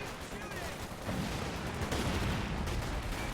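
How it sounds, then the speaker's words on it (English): A mortar shell strikes amid a Company of Heroes 2 battle, a dense roar of gunfire and blasts that swells in the second half, fairly loud and continuous. "a very good mortar hit right there"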